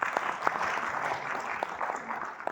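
Audience applause at a talk event about Kashmir culture, a moderately loud ongoing wash of clapping with a few sharper individual claps standing out.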